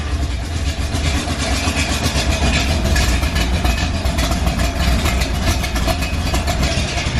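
An AC Cobra with straight pipes idling after a cold start, a deep, rough, continuous engine rumble, close and loud with steady low pulsing throughout and no speech.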